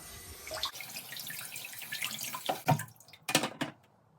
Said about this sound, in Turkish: İlk önce şu kirli suya batırıyorum.